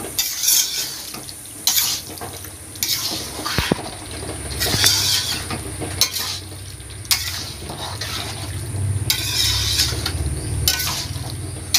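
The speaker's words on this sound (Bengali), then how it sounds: "মাংসটা ভালোভাবে কষতে হবে। আর আদা রসুন, একটা কাঁচা গন্ধ থাকে আদা রসুনের, সেটা যতক্ষণ না যাবে ভালোভাবে এটা কষতে হবে।" Chicken with ginger and garlic being sautéed and stirred in a pan for a village-style Dak Bungalow chicken, with steady close sizzling and repeated scraping, clattering stirs, and no talking.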